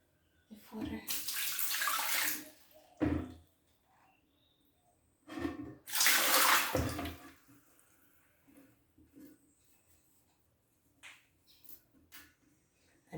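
Water rushes into a toilet cistern through a newly fitted inlet valve, two loud sustained bursts of filling with quieter gurgles and handling noises between and after.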